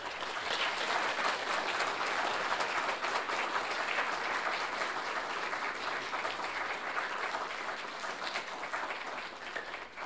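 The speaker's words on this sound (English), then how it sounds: "could we all give him a round of applause?" A lecture audience gives a sustained round of applause. Dense, continuous clapping holds steady for the full ten seconds and thins slightly toward the end.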